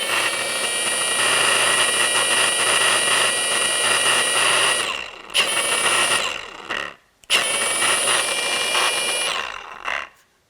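Milwaukee 2738-20 cordless rotary polisher with a 5-inch backing plate, running at a set speed, a loud steady motor whine that stops and restarts twice.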